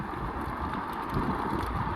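Strong headwind roars and buffets the microphone steadily while an electric scooter rides at speed outdoors, forming a dense, continuous rumble with no pauses.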